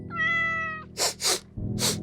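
A cat gives one clear, drawn-out meow up close, followed by a few short breathy huffs or hisses.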